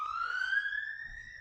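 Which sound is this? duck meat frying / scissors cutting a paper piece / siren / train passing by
siren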